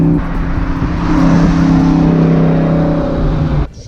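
A Ford Mustang Fox body swapped to a Tremec T-56 Magnum six-speed manual drives by, its engine a loud, close, sustained roar that fades out abruptly at the end.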